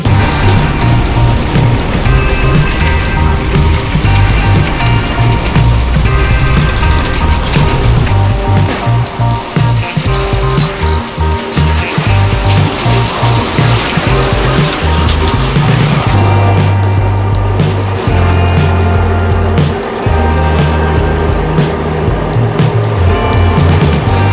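Honda Vario 125 scooter ridden at full throttle on Java's Pantura coastal road, a loud, steady engine drone with heavy wind buffeting throughout and shifting tonal pitch as speed changes.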